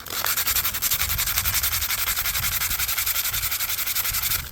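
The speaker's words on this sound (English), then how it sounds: "5 minutes of sanding, not even that." Rapid back-and-forth scratching of 60 grit sandpaper on a wooden shovel handle from a Hungarian entrenching tool, close and loud with an even rhythmic stroke and no talk.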